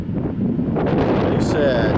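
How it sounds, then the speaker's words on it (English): Strong wind buffets the microphone outdoors during a forest fire in Apache County, Arizona, a steady loud roar filling the whole clip with no break. "The wind's blowing me all over the place."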